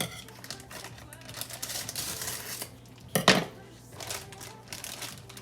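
Broccoli florets tumble from a bag into a casserole dish in a home kitchen, a soft rustling clatter with a brief louder thump of the pieces landing, alongside faint background kitchen noise.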